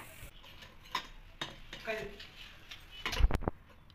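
Fried jangiri are moved from the pan into sugar syrup with soft clinks and scrapes of a utensil against metal and a faint sizzle, ending in a cluster of sharper knocks while someone talks.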